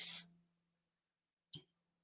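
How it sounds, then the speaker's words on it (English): Hairspray, used for a crisp hold, is sprayed onto hair in two close, loud hissing bursts, a longer one followed by a short puff after a silent pause. "So I'm just going to spray that on the hair."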